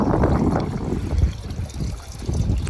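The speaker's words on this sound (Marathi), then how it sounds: "पिशवीतनं कसं आई पाणी घेते बघा" Cold water pours from a filled plastic bag outdoors, a steady close trickle and splash running for a few seconds with no voices.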